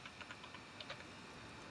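Keys clatter on a computer keyboard in a few quick, light taps close by, followed by a brief lull with a faint background hiss.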